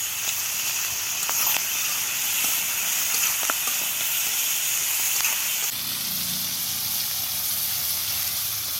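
Tomatoes added to a hot pan of chicken curry, a steady, loud hiss of sizzling steam with a few faint clicks, softening slightly partway through.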